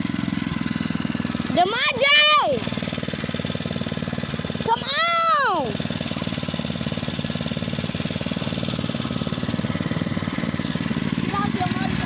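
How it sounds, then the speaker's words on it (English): A dirt bike engine on a street revs twice, each rise and fall of pitch standing out against steady background rumble, while children shout and talk over it. "Get off your motorcycle."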